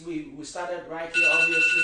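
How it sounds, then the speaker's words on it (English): A phone alarm rings out during an interview, its bright, steady electronic tone entering midway and sounding loudly alongside a man's ongoing speech. "that's my alarm going off."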